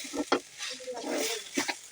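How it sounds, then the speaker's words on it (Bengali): Raw rice for khichuri is stirred and dry-fried in a pan, giving soft scraping sweeps and a light sizzle, broken by a few sharper scrapes of the spoon close by. "এভাবে চালটাকে নেড়ে চেড়ে ভেজে নিতে হবে খুব সুন্দর করে"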